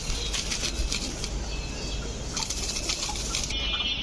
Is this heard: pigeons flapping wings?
yes